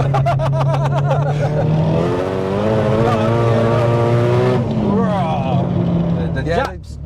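A 600bhp Nissan Silvia S15 with a built 2.1-litre stroker engine revs loudly and up close, its note holding steady, then climbing and falling through repeated blips.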